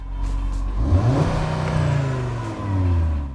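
An Audi RS3 engine revs up toward its soft limiter, a loud, close rising growl that climbs, holds, dips briefly and surges again, with no speech over it.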